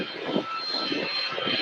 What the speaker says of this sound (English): Southwest is rolling. Southwest Max 8 departing.